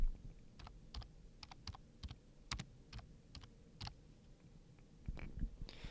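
Keys clatter on a computer keyboard as a search term is typed into an editing program's effects bar, with quiet, close, irregular clicks in short bursts and no talk.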